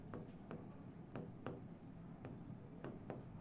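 Marker writing on a classroom board in steady, rhythmic strokes, each stroke a soft scratchy tap repeating roughly every half second, close and fairly quiet with no talking.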